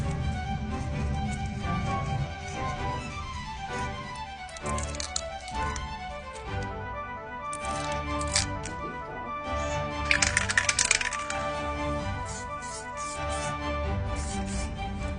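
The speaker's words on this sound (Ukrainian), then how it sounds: "І тепер беру канцелярський ніж і обережненько цей контур вирізаю" A utility knife carefully cuts along a drawn contour on a car hubcap, giving irregular scratchy scraping and small clicks that are moderately loud and close, with no voices.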